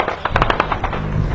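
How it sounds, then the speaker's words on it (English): A rapid burst of gunfire cracks directly overhead during fighting between the Iraqi army and ISIS, loud and close with sharp, irregularly spaced shots over a dense background rumble. "gunfire comes in right above our heads."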